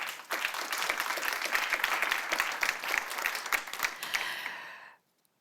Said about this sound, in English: One applause, please.